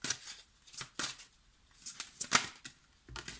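Tarot cards being shuffled and drawn by hand, a series of crisp papery riffles and flicks in irregular bursts, close and fairly quiet.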